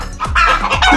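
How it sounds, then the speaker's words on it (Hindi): A rooster lets out a quick run of loud, close clucking calls, three or four short squawks packed into about one second. "मुर्गा"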